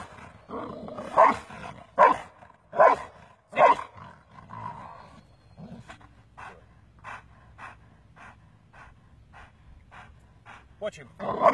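A protection dog pants heavily and breathes loudly close by, with several rough barks or vocal bursts early on, then steady rhythmic panting continues.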